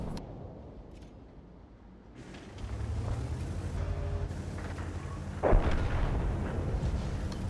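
Artillery fire in a tank video game: a quiet stretch gives way to a rising rumble, then a sharp, loud blast booms and rolls out under a continuing low drone.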